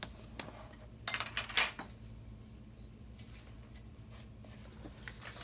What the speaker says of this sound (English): we are going to whisk all of those ingredients together